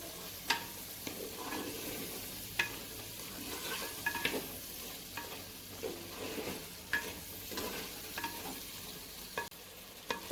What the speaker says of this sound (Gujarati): ટીંડલી કાપીને રાખી છે એને આપણે અંદર એડ કરી દઈશું. બે મિનિટ આ રીતે ચલાવીશું.